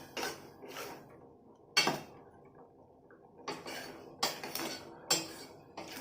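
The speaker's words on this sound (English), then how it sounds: "Keep stirring it and cook until it turns into a thick paste." Thick mango chutney is stirred in a cooking pan over the flame, a spoon scraping and clinking against the metal in repeated bursts, close and fairly quiet with pauses between strokes.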